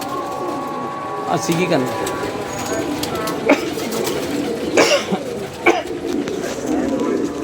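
Pigeons coo repeatedly at close range in a rooftop loft, soft rolling calls recurring across several seconds while someone talks over them and a few sharp knocks and wing-like bursts break in.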